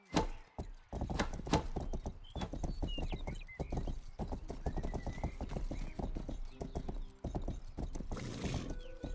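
Horse hooves clip-clop in a quick, steady rhythm in the video game Rustler, close and clear, with a brief whinny and some faint jangling mixed in.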